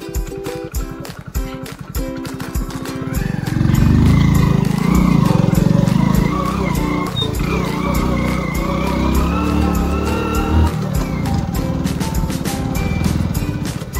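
Vehicle engine laboring in first gear up a rough, potholed mountain road in Rajouri, a steady loud drone with clattering and rattling throughout, no talk.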